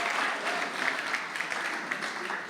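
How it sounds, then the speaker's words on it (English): Steady, even applause from an audience at a company all-hands design workshop, honoring the winners, a continuous soft wash of many hands clapping at moderate distance. "So big round of applause to everybody and to the winners."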